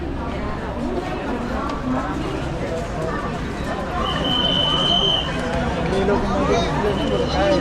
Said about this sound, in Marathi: आपण आता पोहोचलेलो आहे ठाण्याला आणि ठाण्याला तुम्ही गर्दी बघा मित्रांनो